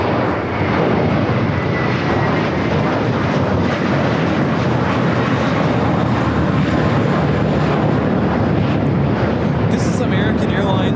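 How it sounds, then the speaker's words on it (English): An American Airlines A321 jet takes off at LAX with a loud, continuous engine roar that fills the whole stretch, broad and steady, heard from fairly close. "This is American Airlines 753 taking off to Atlanta on the A321"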